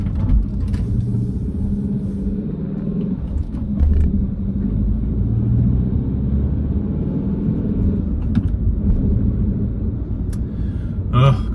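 A 2010 Skoda Yeti 1.2 TSI S with a turbocharged four-cylinder engine pulls away on the road, producing a steady low rumble of engine and road noise with a few faint clicks and knocks throughout.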